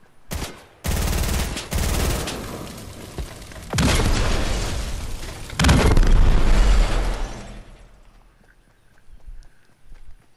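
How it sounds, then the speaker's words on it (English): A gas station exploding in the Fortnite video game: several loud, roaring booms and crackling blasts burst in quick succession and fill several seconds before trailing off into quieter game ambience. "I've heard that gas stations can explode now."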